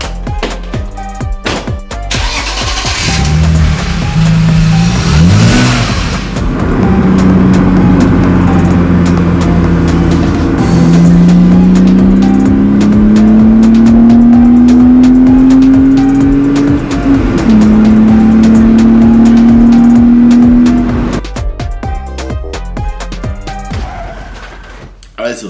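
A 2005 Mercedes W220 S500 4MATIC drives along, its engine note rising steadily as it accelerates through a couple of gear changes, loud and close from inside the car, with quiet stretches before and after.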